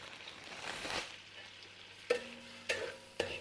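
Sugar being stirred in a pan as it melts and caramelizes for palada payasam, with a soft scraping stir followed by three sharp clinks of a spoon against the pan, moderately quiet with no talk.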